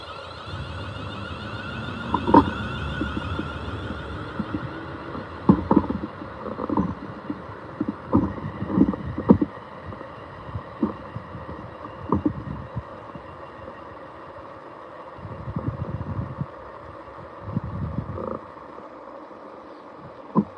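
A Class 37 diesel locomotive idles with a deep rumbling hum, steady and close, with occasional heavier knocks and pulses through the drone.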